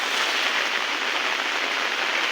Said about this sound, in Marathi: बघा किती पाऊस पडतो आहे